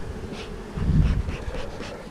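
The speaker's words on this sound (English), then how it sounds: "All these bees seem like they're homing in on that." A dense, low insect buzz of many bees droning together around a hive box, swelling briefly louder in the middle and holding steady throughout with no voices.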